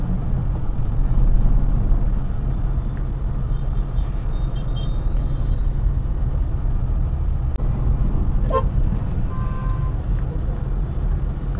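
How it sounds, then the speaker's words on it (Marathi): Heavy road traffic stalled in a slow jam gives a steady low engine rumble from idling cars and larger vehicles nearby, with occasional faint higher mechanical hisses over the drone. "आज काय ट्रॅफिक जास्तच दिसते, मुवमेंटच नाही आहे."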